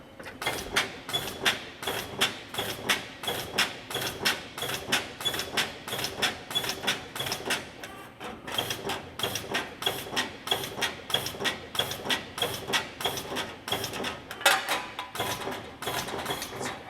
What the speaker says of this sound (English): Currently notching all the relief notches that are needed in that arc portion of the letter.